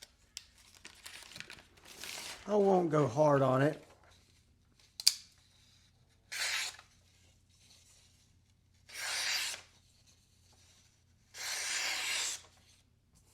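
Shirogorov RJ Martin folding knife with an S90V blade slicing through paper in four separate crisp, hissing cuts spaced a couple of seconds apart, following a brief spoken remark.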